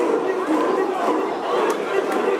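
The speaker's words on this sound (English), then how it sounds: "Crowd barking along, honoring the House of Black." Wrestling crowd at a live match barking along in a rhythmic chant in honor of a faction, a loud dense roar of many voices with sharp shouts rising over the din.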